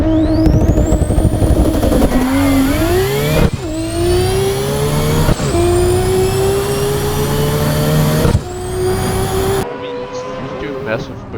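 BMW M3 F80 CS doing a loud engine-revving burnout in Assetto Corsa, with whining rising revs and tire squeal cut by several sharp shifts, while voices chatter over the game audio.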